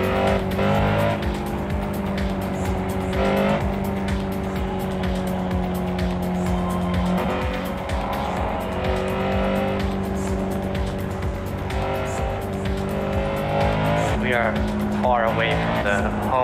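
Racing cars in a video game with mods roar continuously at close range, engines holding steady notes and shifting pitch as they accelerate, with tires squealing now and then and people talking over the action.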